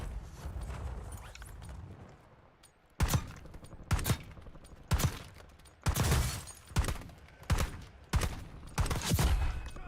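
Gunfire in Call of Duty Warzone rings out in about eight loud, close bursts at roughly even intervals, each a sharp crack with a short tail, after a quieter opening stretch.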